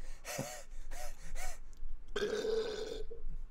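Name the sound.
burping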